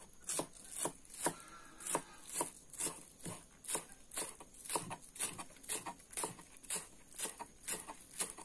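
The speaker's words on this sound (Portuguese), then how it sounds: "Agora eu vou cortar aqui o cheiro verde" Knife chopping cheiro verde, parsley and green onion, on a cutting board: a brisk, even run of sharp close taps, about two per second, with no talk.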